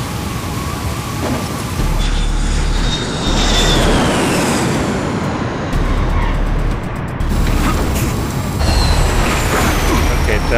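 A plane's engines drone loudly in Splinter Cell: Blacklist as it comes in with landing gear down, a heavy steady roar with a deep low rumble under occasional brief voices.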